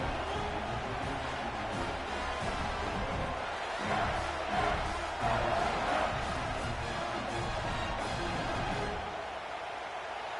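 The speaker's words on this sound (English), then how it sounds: "this crowd is feeling themselves after that last drive" A stadium crowd cheers in the College Football 26 video game, a dense, steady roar of voices that swells in the middle and eases toward the end. Low talk sits under it.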